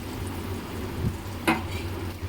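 Okra (bhindi) cooking in a pan while being stirred, with a low steady sizzle, one soft scrape of the spoon and a brief clatter near the middle.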